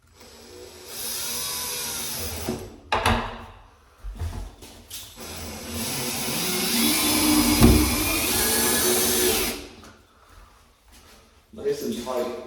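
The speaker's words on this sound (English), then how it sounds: "Then you're gonna want to put your screws back in." A power drill driving screws back into a door hinge, whirring in several bursts of varying length with short gaps between them, close and fairly loud.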